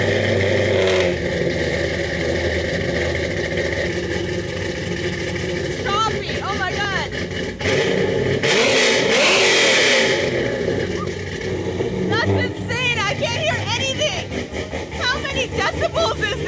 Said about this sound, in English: is gonna start up this Camaro.